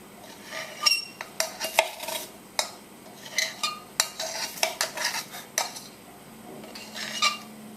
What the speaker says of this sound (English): measure out my baking powder and put that in and whisk it all together